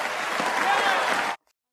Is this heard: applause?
yes